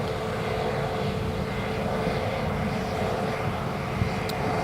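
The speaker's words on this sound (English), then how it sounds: "Right, here goes the BizJet" A business jet passes near an airport, its broad engine roar steady and fairly loud throughout, with no voices over it.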